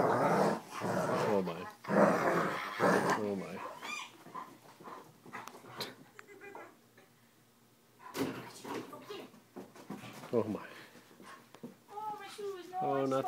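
A puppy growls in short, playful bursts, up close, while tugging at a pillow, alternating with people talking nearby.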